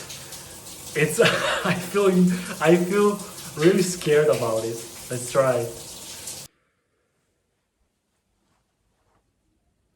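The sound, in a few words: cold shower running water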